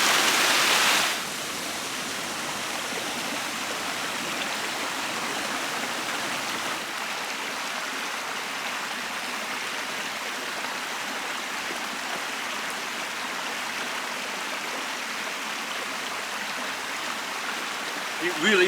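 Stream flowing through Greave Clough near Sharneyford, Bacup, a steady rushing babble of water that continues unbroken and fairly close, with no voices.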